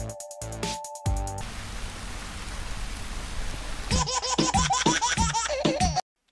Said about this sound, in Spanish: Está lloviendo, ¿verdad?